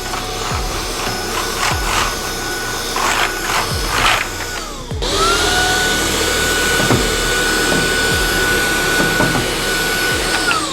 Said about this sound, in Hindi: बाकी वैक्यूम पावर उस चीज़ को खींच लेती है